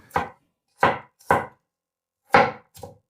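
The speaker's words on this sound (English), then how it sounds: "Just slice them like this into rounds." A knife chops vegetables into rounds on a cutting board, five sharp, separate thuds with short gaps between them, close and clear with no talking.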